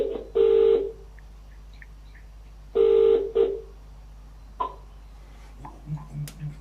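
Telephone dialing tones for a call to Europe, two long loud tone bursts a couple of seconds apart, followed by fainter shorter beeps over a quiet line hum.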